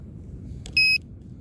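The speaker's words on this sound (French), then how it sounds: "Par contre, ça sonne très bien sur le détecteur." A metal detector on a Basque beach gives one short, clear electronic beep on a find, alone over faint background noise.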